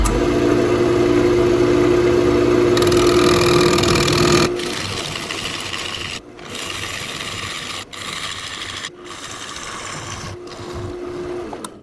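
A wood lathe whirs continuously as a tool cuts into spinning spalted crab apple wood, a steady grinding hum broken by a few brief pauses and scraping bursts.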